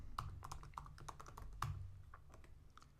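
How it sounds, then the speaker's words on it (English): Rapid keystrokes clatter on a computer keyboard while someone types in an office software session, a close, dry run of irregular clicks over about three seconds with no talking. "we can just start typing in observations"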